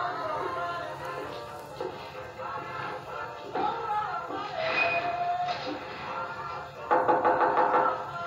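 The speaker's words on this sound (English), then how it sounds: "I'm going to knock on Phil for Real's door." Several knocks on a door come in irregular bursts, close and fairly loud, mixed with rustling and a brief voice in the background.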